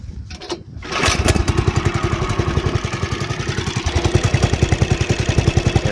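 A Club Car golf cart converted from electric to a gasoline engine starts up after a brief pause, then settles into a close, loud, rapidly thumping small-engine putter that quickens slightly as the test run goes on.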